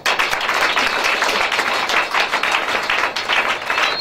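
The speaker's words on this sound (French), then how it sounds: "mais on va encore l'applaudir très très fort" Crowd applauding at a press event in Ivory Coast, steady dense clapping throughout, fairly loud and close, with no talk over it.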